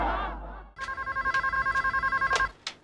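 A telephone bell rings in a rapid trilling pulse for about two seconds, loud and close, after a brief stretch of speech, in a Hindi comedy drama scene.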